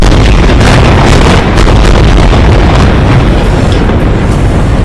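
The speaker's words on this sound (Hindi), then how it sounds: "एक इमारत पर तो एक के बाद एक कई मिसाइलें गिरी, जिसके बाद ऐसा धमाका हुआ कि कान के पर्दे फट जाएं।" Missiles strike a building in Gaza in news footage, giving a continuous, very loud roaring blast that saturates the recording for several seconds without any voice over it.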